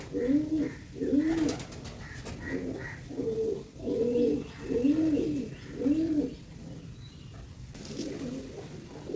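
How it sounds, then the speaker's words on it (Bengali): A young pigeon with long legs and lightly feathered feet coos in a steady series of soft, throaty phrases close by, with a few faint chirps and no talking. "অনেক সুন্দর একটা পায়রা আছে এই এই পায়রাটা"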